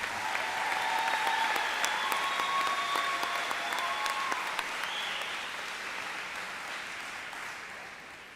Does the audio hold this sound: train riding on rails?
no